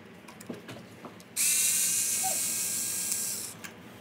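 Electric ratcheting driver backing out wheel hex screws on a Traxxas UDR RC truck, one loud steady whirring buzz lasting about two seconds, close by, with light handling clicks before it.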